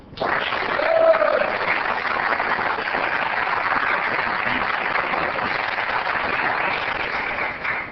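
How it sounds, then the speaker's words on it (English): Audience applause at a city council meeting in Oceanside, a steady, moderately loud patter of many hands that rises quickly, holds evenly for several seconds and stops abruptly at the end. "Let's help Jesus celebrate with a round of applause"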